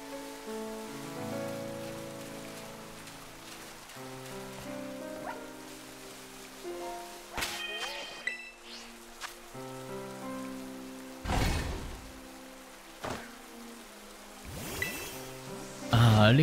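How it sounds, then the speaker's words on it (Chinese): Steady rain patters in the Pokémon Scarlet/Violet video game as a soft, continuous hiss beneath layered game music, with a few louder bursts rising above it. "下雨够了吧？"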